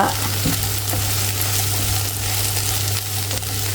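A Kerala-style curry sizzles loudly in a pan while being stirred, a steady close frying hiss with occasional scraping of the spoon throughout.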